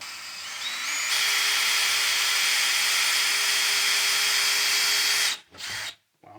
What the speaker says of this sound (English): So I'm going to correct that with a drill.